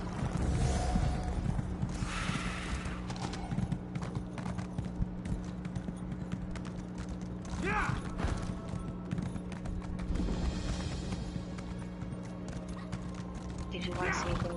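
A sped-up horse in the video game Elder Scrolls Online gallops with rapid, rhythmic hoofbeats and an occasional whinny, steady throughout, with voices talking over it.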